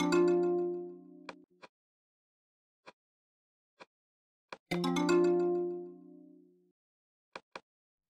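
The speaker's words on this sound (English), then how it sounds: "Do you hear the friendly chime sound?" A friendly chime plays twice from a SwiftUI app button in Xcode, each a bright ringing tone that fades over about a second, with soft clicks scattered between them in otherwise quiet surroundings.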